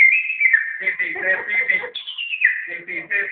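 Someone whistling a lively tune up close, shrill, bright notes sliding and trilling in quick phrases, with short dips and breaks between runs.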